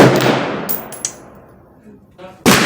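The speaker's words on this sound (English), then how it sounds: "that was the 10th shot" A single sharp rifle shot from a Smith & Wesson M&P15 cracks loudly and decays over about two seconds, followed by a second abrupt burst at the end.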